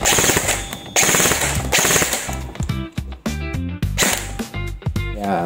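An EC 867 Noveske airsoft rifle fires full auto in rapid rattling bursts, loud and close, with short pauses between strings and sharp mechanical clacks.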